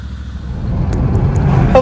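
Low rumbling engine and road noise from inside a moving truck, a steady droning hum that swells slightly toward the end, close and fairly loud with no talk.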